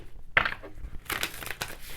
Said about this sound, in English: let's pull from the spirit deck to do some shuffling